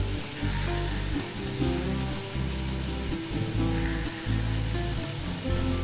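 Small lentil fritters (dal bora) fry in hot oil, giving a steady crackling sizzle with a low hum underneath and no one speaking.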